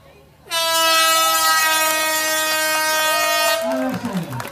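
An air horn gives the race start signal at a public village-square event, one loud, steady, sustained blast lasting about three seconds before cutting off into crowd noise.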